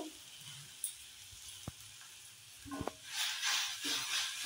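Tomato mixture with coriander leaves frying in oil: soft, continuous sizzle and hiss, with a couple of stirring clicks and a louder burst of sizzling toward the end.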